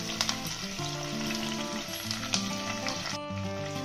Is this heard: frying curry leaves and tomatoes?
yes